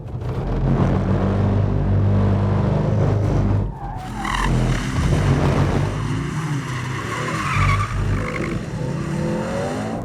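A Mercedes C63 S AMG estate slides on a wet track with loud tire squeal and engine roar for several seconds, then the pitch shifts and the engine revs as the car recovers, all close and without talk.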